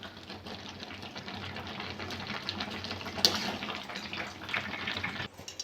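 Boiled taro leaves are poured out to drain, giving a soft, steady wash of running and splashing water that is fairly quiet and continuous, with no talking.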